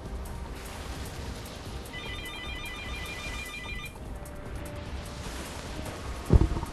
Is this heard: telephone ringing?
yes